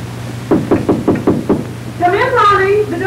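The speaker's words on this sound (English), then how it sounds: "I knocked on the door and you invited me in." Six firm knocks on an apartment door in a 1940 comedy film, evenly spaced and close, followed by a person speaking.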